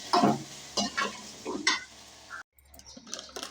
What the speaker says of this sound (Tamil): கடுகு வெந்தயம் போட்டு நெல்லிக்காய் போட்டாச்சுங்க.